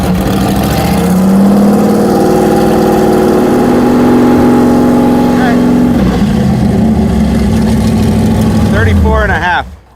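A Mazda race car engine held at wide open throttle, a loud sustained drone with strong harmonics that holds steady, dips and climbs again, then cuts off abruptly at the end.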